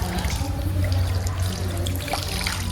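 Water pours and splashes in a steady, close stream as feet and hands are washed before entering a temple, with a low rumble beneath and no talking.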